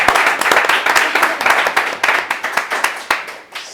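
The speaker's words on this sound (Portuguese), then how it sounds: "eu quero uma salva de palmas para a maior churrasqueira do Brasil, a chefe Jujuba." A burst of applause from a small studio audience on a talk show, rapid claps that gradually thin out and fade over a few seconds.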